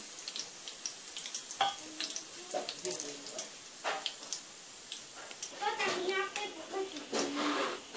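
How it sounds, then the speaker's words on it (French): Spices fry in a pan at the start of an Indian mint-coriander chutney, giving light, crackling sizzles and pops, while a person speaks over the cooking. "Il faut bien revenir ces épices avant de rajouter notre oignon et notre gingembre"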